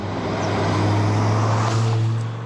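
A steady, close engine drone from an Audi R8 V10 Spider, a 5.2-litre V10 with Quattro all-wheel drive, held at an even pitch and swelling slightly before easing off over a couple of seconds.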